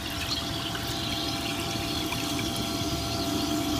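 Water gushes and splashes continuously from the outlet of a brushless 24V DC pump, a loud, steady rushing roar close by with no pauses.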